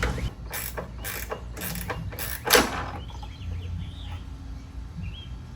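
A 10mm socket ratchet clicks in several quick bursts while loosening liftgate strut bolts on a Subaru Forester, faint and close, followed by quieter background rustling.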